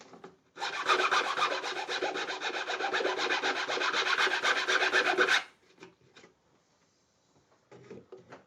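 A wooden part on a custom guitar build is filed flat in a fast, loud run of rasping strokes lasting about five seconds, followed by a few quieter scrapes and light knocks.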